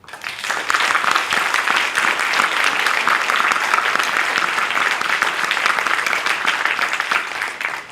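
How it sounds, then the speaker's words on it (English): An audience at the closing session of a conference breaks into loud, sustained applause, many hands clapping densely and evenly for several seconds before it starts to taper. "Please join me in applauding and thanking them."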